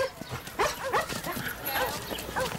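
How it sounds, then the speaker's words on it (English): A rescue dog barks a few times in short bursts close by, mixed in with talking voices and background noise. "Your dog's inside."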